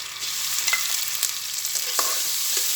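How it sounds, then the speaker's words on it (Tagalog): Chicken sautés in a pan for a simple farm-to-table dish, a dense steady sizzle close by with soft stirring scrapes and occasional light clinks. "Meron pala ko konting chicken. Sahugan ko."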